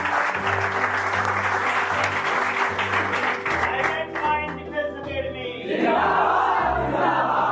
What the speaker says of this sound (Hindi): मैं आप सबके लिए ताली बजाता हूँ